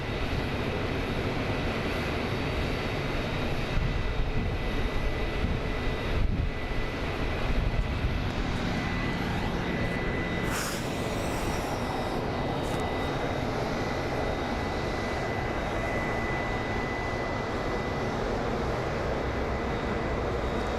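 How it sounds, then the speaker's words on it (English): An American Airlines airliner on the ground at Phoenix Sky Harbor International Airport before takeoff, a loud steady engine roar and whine with wind buffeting, no talk. "So that is American Airlines Flight 194 headed to London Heathrow. It is about to take off."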